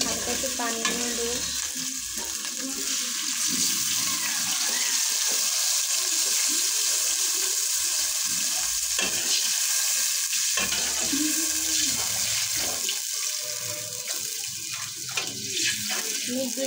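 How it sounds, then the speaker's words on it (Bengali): Water is poured into a pan of frying onions for khichuri, bursting into loud, steady sizzling and bubbling that carries on with some stirring, with occasional voice in the background. "এখন আমি হালকা একটু পানি নিয়ে দেবো"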